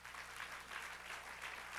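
A church congregation applauds during a sermon, a continuous, even patter of many hands clapping at a moderate distance with no talking.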